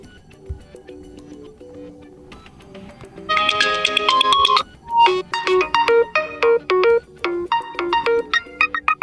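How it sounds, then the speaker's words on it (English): An OPPO Reno 6 Pro smartphone ringtone plays close and clear: a quiet intro swells into a bright, rhythmic melodic chime with repeated pulsing notes, alone without speech. "You can select between system ringtones, custom, and also you can adjust vibration."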